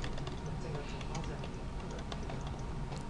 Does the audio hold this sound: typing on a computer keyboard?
yes